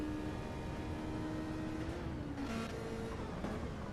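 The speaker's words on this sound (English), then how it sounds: "that car genuinely does sound like a little F1 car" A Toyota FT1 race car in a GT3 championship racing video game drones steadily with a high, buzzing engine note that shifts pitch slightly as it accelerates, with faint background track noise and no talk.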